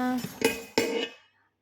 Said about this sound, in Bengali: এই যে একটা হাঁড়ি কিনছি